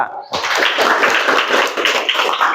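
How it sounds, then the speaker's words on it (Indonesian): A classroom group claps for a student group's presentation, a dense burst of many hands beginning abruptly and continuing steadily at close range. "Beri aplaus untuk kelompok 2"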